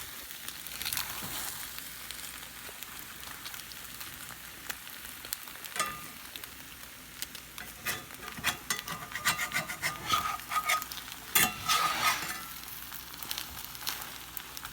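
Tortilla chips frying in a pan and being stirred, a soft crackling sizzle broken by scraping, rubbing stirs that grow busier toward the end, with no talking.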